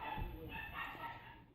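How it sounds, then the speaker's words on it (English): Dogs bark and yip faintly somewhere in a house, a couple of soft muffled calls heard at a distance over low room noise. "sorry about the dogs."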